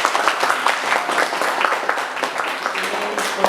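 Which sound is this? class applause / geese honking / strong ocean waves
class applause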